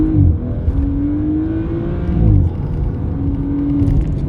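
A stock BMW M140i with engine and gearbox in sport mode accelerates hard, its engine note rising steadily and loud from inside the car, easing briefly before climbing again, with no talk.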